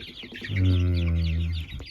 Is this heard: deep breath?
no